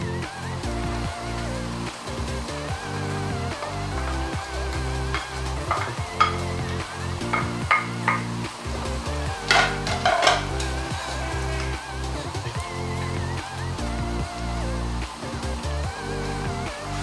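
Crayfish and pepper sizzle and fry in a pot for egusi soup, with a steady hiss and occasional spoon stirring and clinks throughout, under continuous background music.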